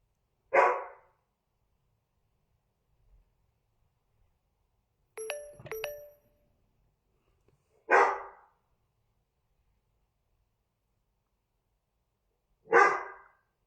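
Dogs bark in four short, separate outbursts spaced several seconds apart in a quiet room, with a faint chiming tone between them.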